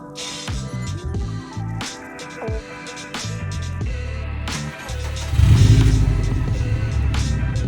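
A car engine catches and settles into a steady, loud idle about five seconds in after a remote autostart, preceded by faint clicks and mechanical sounds, with music playing throughout.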